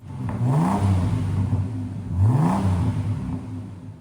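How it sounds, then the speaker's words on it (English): A Ford inline-six engine in a lowered 1995 XG Falcon ute revs up twice through its exhaust with a deep note, each rise climbing in pitch then settling into a steady rumble, close and loud. "Ford's inline 6 with the right exhaust actually sounds pretty good."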